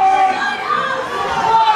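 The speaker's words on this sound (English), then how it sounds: "Just listen to this crowd" A loud wrestling crowd in Quincy roars and chatters steadily for the heavyweight champion Mike McCarthy at an indoor wrestling show, a dense, continuous wall of voices close up.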